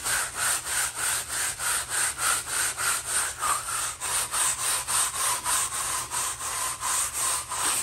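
A stiff bristle brush scrubs back and forth over an epoxy-coated garage floor to lift embedded tire marks, giving a steady rhythm of about twenty raspy strokes that stay close and even.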